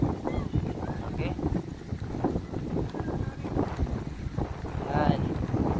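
A motorboat travels across the open sea, its low engine drone and water wash continuous under heavy wind buffeting on the microphone, with gusts rising and falling throughout.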